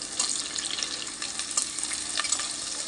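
Cashews and green chillies fry in hot oil in a pan for biryani, giving a steady close crackling sizzle with small pops throughout and no talking.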